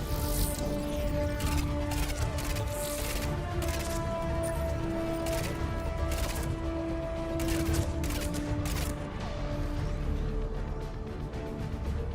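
Sustained rapid gunfire from a gun running low on ammo in the video game Mass Effect 3, a dense continuous stream of shots mixed with game music and effects, with no talking.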